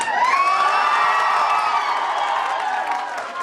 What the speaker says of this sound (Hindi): एकदम जोर से क्लैपिंग होना चाहिए कि हॉल गूंज जाए।